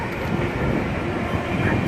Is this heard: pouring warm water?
no